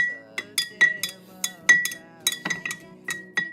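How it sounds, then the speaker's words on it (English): Spoon clinking repeatedly against a glass while stirring spices such as turmeric and cayenne into a drink, a dozen or so bright, close taps in an uneven rhythm. "So I stir that until all the spices are fully dissolved."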